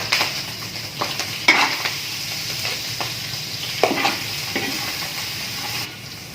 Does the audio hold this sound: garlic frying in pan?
yes